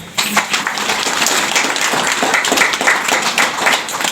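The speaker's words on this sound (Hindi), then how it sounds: "ताली बजाएगा" Audience applause at a community gathering after a Sarna prayer meeting, a dense, continuous patter of many hands clapping at moderate distance, steady for several seconds.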